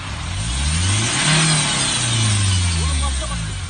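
A car engine revs loudly and repeatedly, rising and falling in pitch, with voices talking over it nearby.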